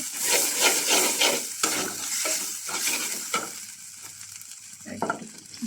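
Masala for prawn malai curry sautés in a pan with a close, loud sizzle, broken by repeated scraping stirs of a spoon at an uneven rhythm.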